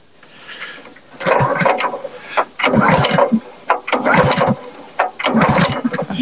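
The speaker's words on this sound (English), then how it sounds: "So let's get the super split fired up." A Super Split log splitter's small engine is cranked with the choke on, fresh fuel and oil. Four loud, close bursts of about a second each are separated by short pauses.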